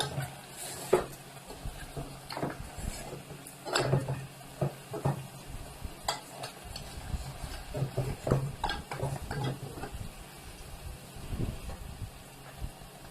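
Ginger and garlic being fried and stirred in a pot for beef nihari, with scattered scraping and clinking of a spoon against metal over a soft, steady sizzle, moderately close and without talk.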